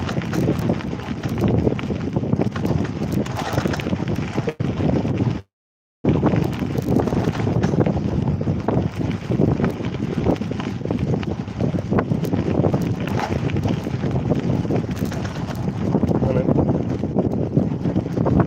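Strong wind roars and buffets the microphone continuously during a ride on a vintage bicycle from Hull to Hornsea, loud and rough, broken by one brief dropout, with a voice speaking over it.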